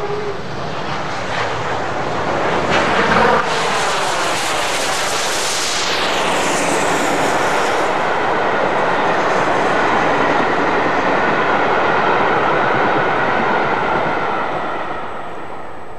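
A London, Midland and Scottish Railway express steam locomotive running past, a loud, steady, broad roar of engine and rolling stock that rises to a peak partway through and holds on, heard close with no voices.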